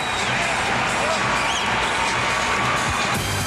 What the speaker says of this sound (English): As the Staples Center crowd fired up here for game one.